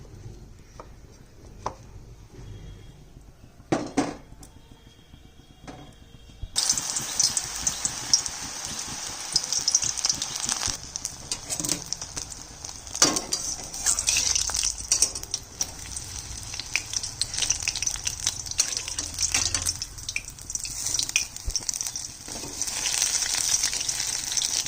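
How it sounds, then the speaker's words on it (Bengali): Battered eggplant slices deep fry in hot oil, giving a steady crackling sizzle that swells as more pieces go in and carries on through the whole stretch. "একটা একটা করে বেগুনে ডুবাবো আর ভাজবো।"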